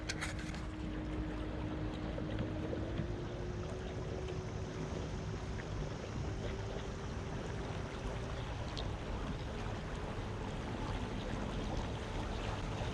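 A Newport Vessels NK300 electric boat motor running at half power, a steady low hum with a faint whine under constant wind and water noise, continuous and even throughout.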